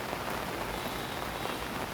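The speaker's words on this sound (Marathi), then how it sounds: "जोरदार पाऊस सातत्यानं आपल्याला नवी मुंबईच्या परिसरामध्ये दिसतोय" Heavy monsoon rain falls in Navi Mumbai, a dense, unbroken patter of drops striking surfaces, steady and enveloping for the whole short stretch.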